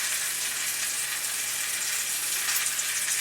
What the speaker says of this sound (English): I'm just going to kind of saute them for probably less than a minute